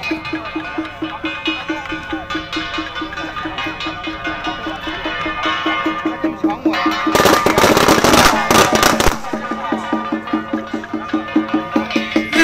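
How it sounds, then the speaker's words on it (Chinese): Strings of firecrackers crackle continuously during a Taiwanese temple camp-setting procession in Shengang, rapid popping that swells into a loud, dense burst of explosions before settling back to a steady rattling stream. "不停的有鞭炮持续的燃那个释放"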